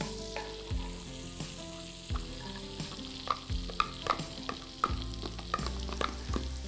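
Onions frying in butter in a pan, with a constant soft sizzle under repeated scraping stirs and clinks of a utensil, close and clear, with no voices.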